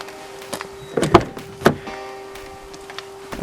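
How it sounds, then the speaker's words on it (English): A vehicle side door on a car fitted with a sleeping platform opens, giving a motor-like whir with a couple of sharp clunks and latch clicks close by, then quieter rattles. "opening the side door,"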